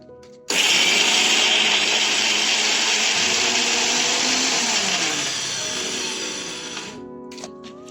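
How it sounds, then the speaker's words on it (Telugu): A mixer grinder jar blending biryani ingredients starts abruptly with a loud, steady whine that eases slightly before cutting off sharply, leaving a quiet tail. "ఇప్పుడు ఇది మిక్సీ జార్ లో పెట్టుకున్నాము."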